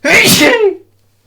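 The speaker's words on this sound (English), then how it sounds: "I'm gonna sneeze." A single loud, close human sneeze bursts out sharply and fades within a second, followed by near silence.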